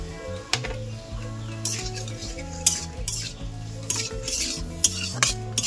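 Bottle gourd greens and potato fry with salt and turmeric in a village kitchen, a steady sizzle under repeated scraping and clinking of a utensil stirring against the pan, with a strong continuous low hum throughout.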